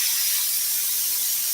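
Spray adhesive applied to a Ford F-100 truck seat during upholstery recovering: a steady, close, loud aerosol hiss running continuously without break.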